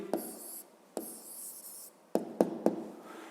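Pen or pencil writing an answer by hand in a maths exercise, with two longer strokes followed by three short sharp taps or strokes, close and fairly quiet.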